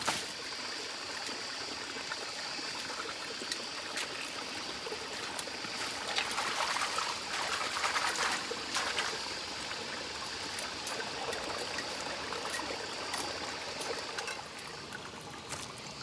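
A forest mountain stream flows steadily close by for the whole stretch, with a continuous hiss and burble and some brief louder splashes partway through. No voices are heard.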